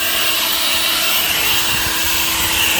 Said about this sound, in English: I use my blower to see if there are any tiles getting up